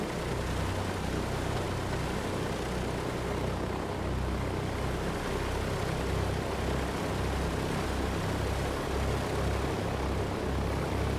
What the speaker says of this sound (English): let's taxi to our takeoff position